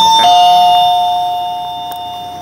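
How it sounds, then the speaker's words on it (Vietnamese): A customer-alert door chime rings once with a bright two-tone electronic ding-dong, loud and close, its tone sustaining and slowly fading with no talk over it. "cái này mình gọi là cái chuông báo khách nha"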